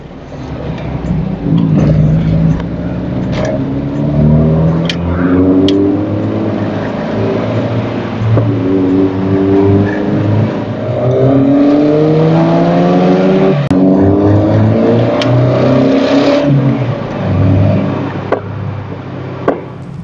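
Drift cars leaving a meet rev hard one after another, with rising engine pulls and sharp exhaust pops close by, loud and repeated over a steady rumble.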